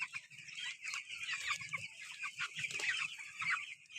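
Fifteen-day-old broiler chicks in a cage-system farm keep up a continuous chorus of high, overlapping peeps and clucks, close and steady, with faint low rustling underneath and no talking.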